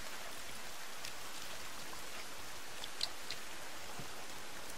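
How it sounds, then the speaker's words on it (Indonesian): Steady rain falls in The Forest survival game, a dense, even hiss of drops with faint ticks scattered through it, continuous and fairly quiet, with no voices. "Kok hujan toh?"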